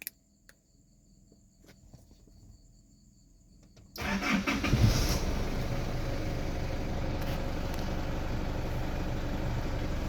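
An Isuzu D-Max pickup engine cranks and catches after a quiet stretch, then settles into a steady, close diesel idle rumble that continues to the end, with faint insect chirps in the background.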